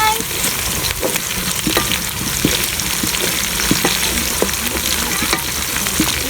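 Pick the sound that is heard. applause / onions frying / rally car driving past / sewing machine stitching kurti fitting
onions frying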